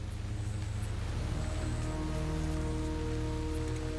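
Rain falling steadily on forest leaves in Primorye, Russia, a dense continuous patter of drops close by, with a low constant hum underneath.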